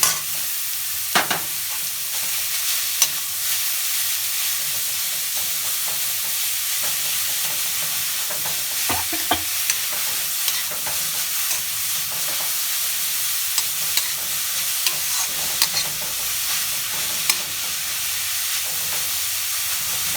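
A spoon stirs grated beetroot and carrot into yogurt raita, giving soft, wet, irregular scraping and squelching sounds with scattered small clicks against the bowl, close and fairly quiet, with no talking.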